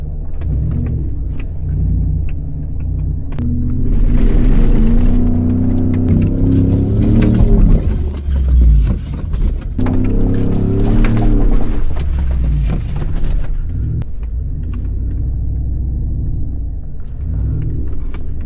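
A Ford F-150 pickup drives off-road, its engine a loud, close, continuous rumble that rises in two revving surges before settling back to a steady drone.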